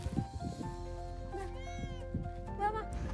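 A local cat at Mahabaleshwar gives two clear, rising-and-falling meows close by, with quiet background sounds between them.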